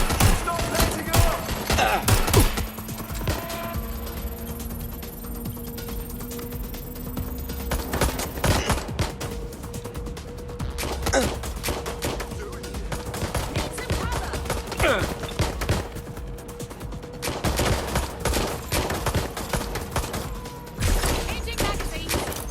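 Gunfire in the video game Watch Dogs Legion, with loud bursts of rapid automatic shots and scattered single cracks, coming in clusters with quieter gaps under game sounds and occasional voices.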